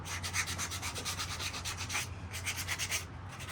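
Wood being sanded by hand with a small piece of 80 grit sandpaper, a steady run of quick rhythmic scratchy back-and-forth strokes, close and fairly loud, with two brief pauses.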